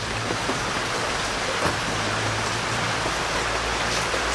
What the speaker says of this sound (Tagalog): Malakas ang ulan dito ngayon.